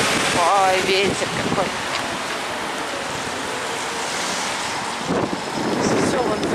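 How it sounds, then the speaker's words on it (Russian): Gusty wind buffets a microphone outdoors, a constant rushing noise with a voice speaking briefly over it. "Ветер"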